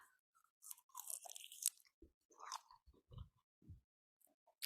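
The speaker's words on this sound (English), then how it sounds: "You can hear my crunching probably." Close, crisp crunching of food being chewed, irregular bites and crackles in quick succession, with no talking.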